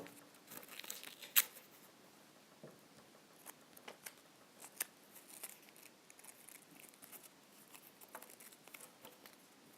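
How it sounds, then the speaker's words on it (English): Tape torn and handled while a finger model is assembled for a prosthetics demonstration, giving faint, scattered crinkling and ripping bursts with one sharper tear early on, quiet and close, no talking. "Once again, I use tape to hold it all together."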